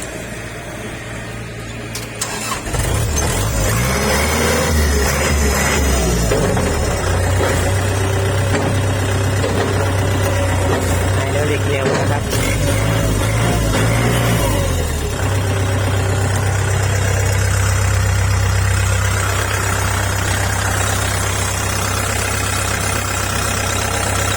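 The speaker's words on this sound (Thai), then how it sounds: "เดี๋ยวฟังเสียงเครื่องยนต์ดูนะครับ คันนี้" A used farm tractor engine starts, then idles loudly and close up with a rough, steady knocking chug and a few small changes in pace, with no talk over it.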